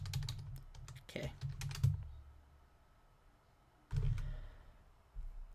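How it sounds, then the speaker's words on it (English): Keys clatter in quick bursts on a computer keyboard as a password is entered during a Linux server login, loud and close, with pauses between runs and a brief spoken word. "I'm going to type the password in"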